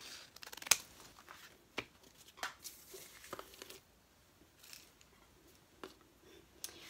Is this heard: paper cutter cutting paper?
yes